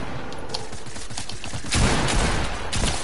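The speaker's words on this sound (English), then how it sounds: "I'm about to pull my blue SMG at him." Rapid bursts of fire from a blue SMG in a squads-mode video game. The shots crackle steadily, then grow louder and denser partway through.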